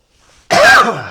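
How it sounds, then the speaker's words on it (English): A single harsh cough from someone with a sore throat, close and loud, with a throaty rasp that fades quickly. "I'm going to cough."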